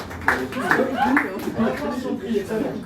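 A restaurant audience at a magic show gives scattered applause for the magician's assistant, a few sharp claps amid chatter and light chuckling close by.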